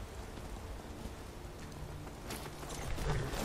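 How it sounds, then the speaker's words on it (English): Steady rain in the video game Skyrim, a dense even hiss of falling drops with faint soft knocks, continuous and fairly close. "It's been raining for hours now."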